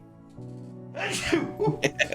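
A single close sneeze bursts out in the middle, preceded by a droning tone and followed by a few breathy gasps and vocal sounds.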